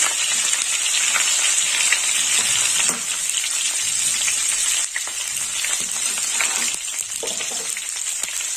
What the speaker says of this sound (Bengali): এই তেলেই কপিটা ভেজে নেবো